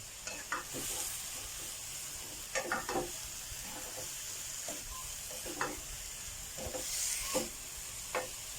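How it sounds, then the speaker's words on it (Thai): Fish stir-fried with neem leaves in a pan without oil, a quiet steady sizzle broken by repeated scraping strokes of a spatula, close by and with no talk. "ผัดให้เข้ากัน"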